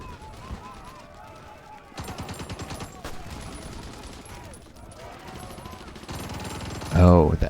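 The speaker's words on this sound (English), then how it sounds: "Oh, the enemy's doing shore bombardment." Shore bombardment gunfire in Hearts of Iron IV: dense, rolling volleys of distant booms and rattling shots keep going throughout, swelling louder near the end.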